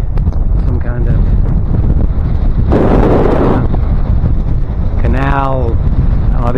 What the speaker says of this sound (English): A little windy up here, you can see the ocean.